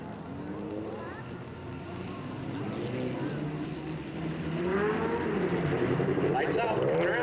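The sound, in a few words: race cars coming around at Delta Speedway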